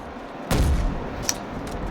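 A single heavy sniper shot booms in a Roblox sniper arena game, followed by a fainter crack and a short sharp report over steady game background noise.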